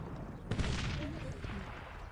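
Musket volley in the real-time strategy game Cossacks 3 during an Austrian campaign battle: a sudden sharp burst of massed gunfire that trails off into a rumbling decay, set against soft background game ambience.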